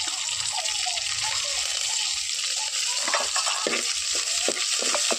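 Mustard seeds and other spices are stirred in hot oil in a pan, giving a steady close sizzle with scraping strokes of the spoon growing more frequent toward the end, no talking.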